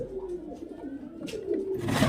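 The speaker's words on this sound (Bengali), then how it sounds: "এখানে পায়রা আছে আরও পায়রা আছে অনেকগুলো পায়রা আছে" Pigeons in a pigeon shed give soft, low, rolling coos, several overlapping calls close by, with a rustle of wings or movement near the end.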